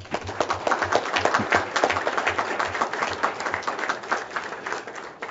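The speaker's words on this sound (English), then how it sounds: "I think a round of applause would be suitable for that" Applause at an open commission meeting, steady rapid clapping from a modest crowd of attendees in a hearing room, sustained and fairly loud throughout.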